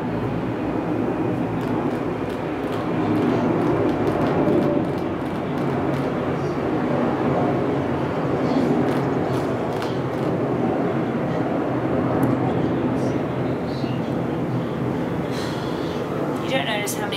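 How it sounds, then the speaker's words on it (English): A passenger airplane flies past overhead outside a house, a broad steady rumbling roar that swells and lingers for the whole stretch, while someone talks indoors over it. "Oh my god, airplane!"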